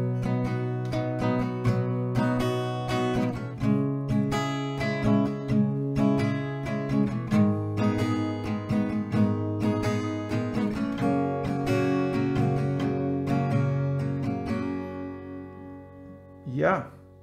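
Acoustic guitar strumming an A-based chord progression, steady rhythmic down-up strokes ringing continuously and fairly close, ending with a brief vocal sound.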